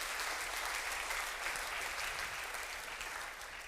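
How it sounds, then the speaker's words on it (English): Steady, dense audience applause fills a hall during an educational piano concert in Sydney, a continuous wash of clapping with no voices that fades slightly toward the end. "Let's give her a round of applause."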